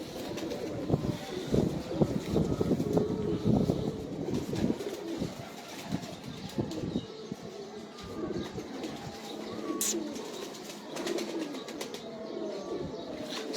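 Pigeons of an old rooftop breed coo softly and intermittently on a roof, fairly distant and faint, with some background noise and no talking.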